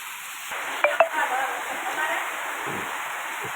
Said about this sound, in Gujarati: એવો વરસાદ પડી રહ્યો છે આપણે જો.